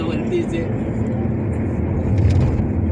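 Steady road traffic with cars, including a four-wheeler just ahead, makes a continuous low engine rumble and road roar throughout, with people talking over it.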